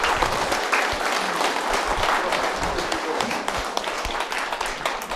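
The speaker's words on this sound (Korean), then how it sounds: "우리의 자랑스러운 후보 이정훈 예비 후보에게 다시 한번 큰 응원의 박수 부탁드립니다" Audience applause at the opening of a Korean election campaign office, a dense, loud burst of clapping from a crowd that holds steady and then tapers slightly.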